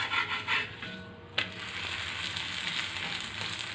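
Paruppu poli frying in a pan on low heat just after being flipped, a close, steady sizzle with rubbing and scraping from the turn near the start, then an even crackling hiss.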